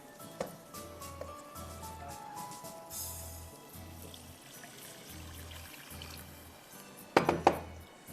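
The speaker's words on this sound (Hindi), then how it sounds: "और इसमें आपको पानी डालना है 1 कप।" Water poured from a cup into a cooking pan holding oats and sliced ingredients in a home kitchen, a soft steady liquid stream with a few light clinks of metal and glass near the end.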